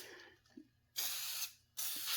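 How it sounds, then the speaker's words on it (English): A furniture-polish substitute is sprayed onto a model in two short, close hissing bursts, each about half a second long, separated by a quiet pause with faint handling sounds. "Spray it on, let it sit, and then take it off."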